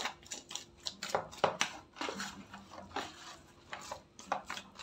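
Chapati dough being mixed with a little fresh frying oil, soft irregular wet taps and scrapes of hand or utensil against a bowl, quiet and close with no speech.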